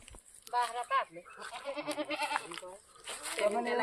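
Goats bleat in several wavering, nasal cries close by, overlapping one another in quick succession.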